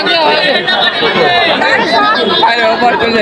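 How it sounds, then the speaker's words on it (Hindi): Packed Zakaria Street in Kolkata during Ramadan, a dense, loud babble of many overlapping voices close around, steady with no pauses. "भीड़ देख रहे हो गाइस, बहुत ही भीड़ है, बहुत ही भीड़ है।"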